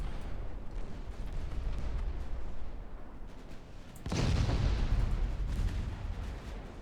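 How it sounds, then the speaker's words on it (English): Naval shells are fired at destroyers in the warship game Ultimate Admiral Dreadnoughts, giving a dense rumbling barrage of distant gunfire that swells into a louder, heavier roar of blasts partway through. "That is a shit ton of shells getting fired at my destroyers."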